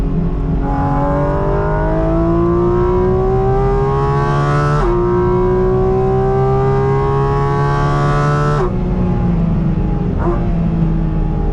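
Porsche GT4 RS accelerating flat out around Spa circuit, a loud sustained engine note climbing steadily in pitch through two long gear pulls with abrupt shift drops, heard from inside the car with no talk.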